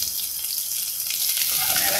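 Chopped ginger, garlic and green chili frying in a pan, a constant close hiss of sizzling with no talk.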